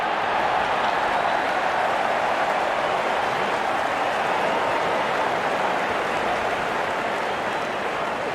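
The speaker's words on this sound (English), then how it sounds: "the crowd cheering in anticipation" A cricket stadium crowd at a Pakistan versus India T20 World Cup match gives a dense, continuous roar of cheering and clapping as the openers walk out, steady and broad without a break.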